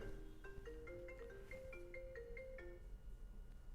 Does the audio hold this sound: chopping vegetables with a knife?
no